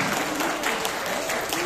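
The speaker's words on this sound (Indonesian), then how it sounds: "Berikan dulu tepuk tangan untuk Tuhan Yesus" Lively applause from a worship gathering, a dense steady patter of many hands clapping close by for the whole stretch with no talk over it.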